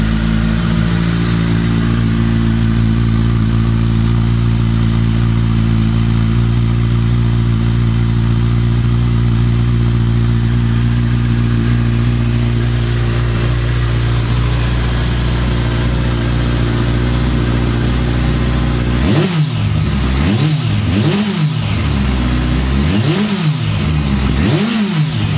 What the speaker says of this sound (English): That was with the baffles installed.